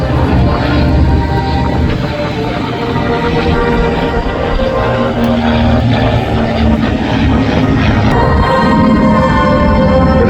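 A silver PT-13 propeller biplane with fixed landing gear flies past at the Wings over Houston air show, its engine drone loud and steady throughout, no voices.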